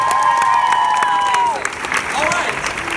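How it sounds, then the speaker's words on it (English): A convention hall audience at a Miraculous Ladybug panel at San Diego Comic-Con 2017 breaks into loud applause and cheering, with whistles and voices mixed into the dense clapping. "Give yourselves a big round of applause for seeing you."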